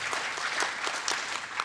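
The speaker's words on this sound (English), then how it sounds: "Give yourselves a round of applause first for coming out tonight." Audience at a community healthcare conversation applauding itself, a steady, moderately distant wash of many hands clapping with faint crowd noise beneath.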